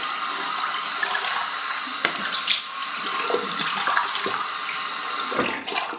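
Bathroom tap running while someone rinses their face: a steady stream of water into a sink, with splashes and brief gurgles from hands breaking the flow.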